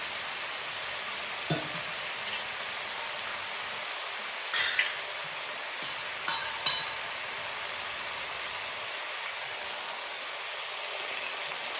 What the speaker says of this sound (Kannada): ಹಾಗಲಕಾಯಿ ಮೆತ್ತಗಾಗೋ ತನಕ ಬೇಯಿಸೋದು.